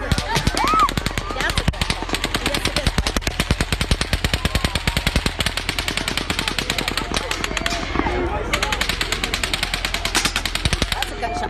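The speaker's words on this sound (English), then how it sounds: "That's a gunshot, dog." Rapid automatic gunfire rattles on almost without a break at the Route 91 concert shooting, with one short pause near the end, while voices call out beneath the shots.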